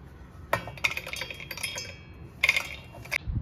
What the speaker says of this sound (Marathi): आता ना मिक्सरच्या भांड्यामध्ये हे भाजलेले शेंगदाणे आहेत ना, हे मी अगोदर सगळे काढून घेते.